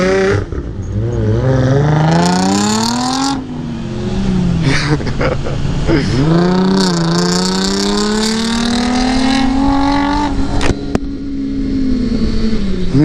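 A straight-piped Nissan 350Z exhaust revs hard and loud up close, its pitch climbing and falling through several long pulls, with brief crackles between rises.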